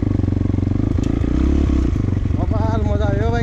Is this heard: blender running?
no